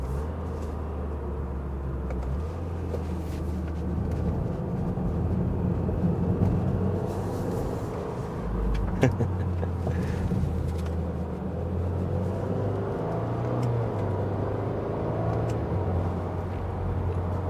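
Subaru WRX SPT, a 2022-2024 all-wheel-drive sedan, pushed hard through corners, giving a steady loud cabin drone of engine and road noise with a low rumble that swells slightly mid-run, no talking.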